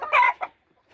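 Two hens in a hatch pen give a quick burst of loud, close clucking with a shorter second cluck, then the pen falls nearly silent.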